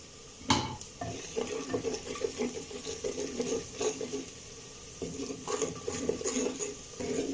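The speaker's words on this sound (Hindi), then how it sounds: "तकरीबन 10-15 सेकंड के लिए मसालों को भून लिया है" Spices with salt, turmeric and dried coriander powder fry and get stirred in a pan for chana and mash daal, scraping spoon strokes and clinks over a soft sizzle, close up.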